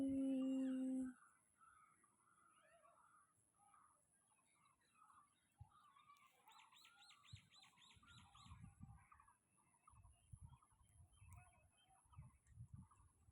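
Small birds chirp and twitter outside a house in a rural area with trees, the calls faint and scattered over a soft background with a few thumps and rustles. A brief loud tone sounds at the start.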